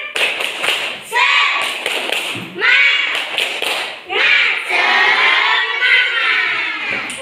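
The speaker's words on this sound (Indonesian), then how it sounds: "Tepuk semangat." Schoolchildren perform a tepuk semangat spirit clap in a classroom, beating out several rhythmic bursts of sharp group clapping. Their shouted, chanted voices are mixed in with the claps.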